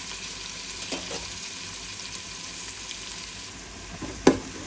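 Green chilies and onions sizzle steadily in hot oil in a pan, a close, even frying hiss with a few brief stirring knocks.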